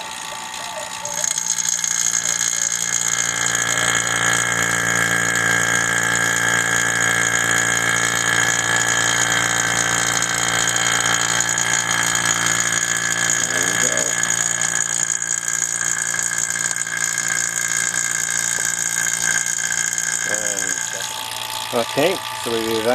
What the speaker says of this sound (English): So now connect our vacuum pump and evacuate the line set to remove any air,